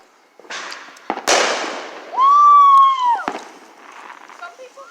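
Fireworks go off at a neighborhood Fourth of July celebration on a rainy night: sharp pops and a crackling burst, then a rising whistling rocket, with voices talking nearby.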